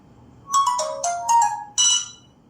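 Ringtone of a Nokia 8210 4G phone, a short bright melody of a few clear chiming tones played loud and close.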